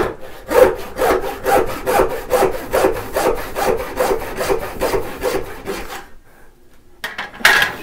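Handsaw cutting wood for a blind wedged mortise and tenon joint, with about a dozen loud, rhythmic back-and-forth rasping strokes up close, then a brief pause before a final stroke.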